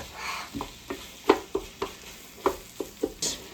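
Ground pork being stirred and broken up in a hot pan while frying for a cheesy breakfast casserole: a steady sizzle runs under about ten distinct scraping strokes of the utensil, close and moderately loud, with no talking.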